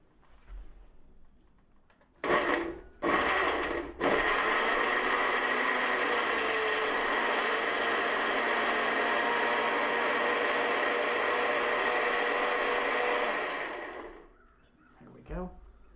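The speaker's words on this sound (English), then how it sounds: "Now let's blend this up and let's see what we got again." A blender purees fermented serrano pepper hot sauce, a loud steady whir running about ten seconds after a couple of short pulses, then winding down, with quiet talk at the start.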